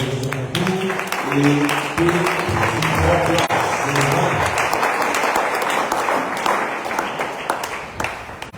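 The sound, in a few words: congregation applauding the Lord in church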